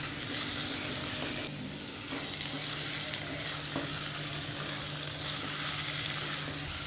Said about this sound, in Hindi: फ्लेम को मीडियम कर देंगे और कलेजी को अच्छी तरह से फ्राई कर लेंगे।